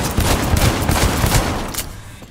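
Pistol gunfire in the video game Cyberpunk 2077, a dense, loud burst of rapid overlapping shots and impacts that continues for about two seconds before trailing off.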